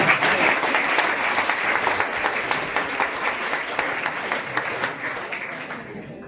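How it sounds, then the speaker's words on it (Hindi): An audience at a block-level school quiz competition applauds to welcome an arriving official, sustained dense clapping from a crowd, loud at first and gradually tapering off. "आप लोग बीपी ताली से स्वागत करेंगे सर का।"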